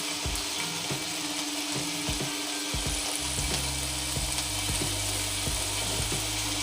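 Chicken tikka pieces sizzling on a hot tawa after flipping, a soft continuous close sizzle with occasional light clicks and taps of the turner, no talk.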